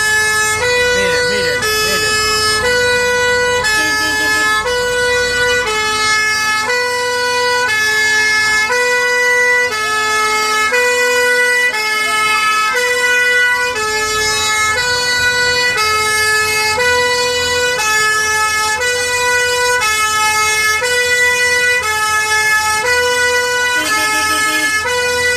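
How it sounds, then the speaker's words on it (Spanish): Sirens wail continuously with rising and falling tones at a volunteer firefighters' day event, loud and steady throughout, layered over one another with a low rumble of traffic beneath. "Desde hace un rato están sonando las sirenas."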